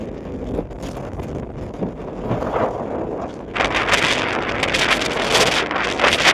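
Wind blows hard across a hilltop and buffets the microphone with a rough, rumbling roar. It steadies early on, then grows stronger and gustier about halfway through, with no talking.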